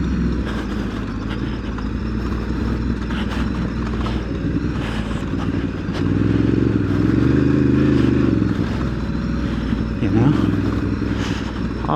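Ducati DesertX adventure motorcycle ridden in first gear on dirt trails, a steady loud engine drone with clatter and slight rises in revs under engine braking, continuous and close.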